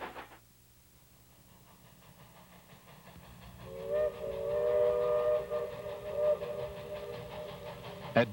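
ET&WNC Tweetsie steam locomotive working hard upgrade, its chuffing exhaust building from quiet to loud as it nears, with a sustained steam whistle blowing and rhythmic beats throughout.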